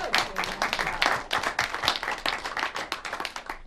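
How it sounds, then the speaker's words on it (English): Audience applause at an access television annual meeting, a fairly small crowd clapping in a lively, uneven patter with distinct individual claps, close and steady before a brief dip and resumption. "How about a round of applause for all his hard work?"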